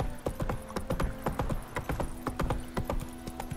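Horse hooves clip-clop in a brisk, steady riding rhythm in The Witcher 3, the sound close and clear across the whole stretch, with no talking.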